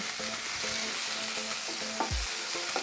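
Peas and tomato stir-fry with onion in a hot pan for a jowar pulav, giving a steady close sizzle with a few scraping stirs of a spatula and one louder clack.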